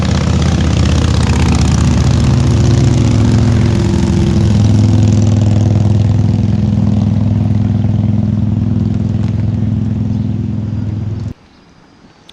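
Several motorcycles rumble in together at a scenic overlook on New Hampshire's Kancamagus Highway, their loud, close engines idling and revving in a thick, steady roar for about eleven seconds before cutting away to near silence.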